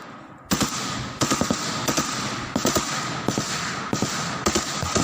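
Bursts of gunfire ring out in Ukraine war footage, several sharp cracks in quick clusters over a constant rumbling background.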